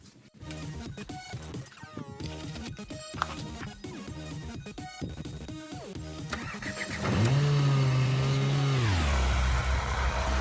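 A rally car engine cranks with rapid rhythmic chugging, then catches and roars up into a loud rev before settling into a steady running hum.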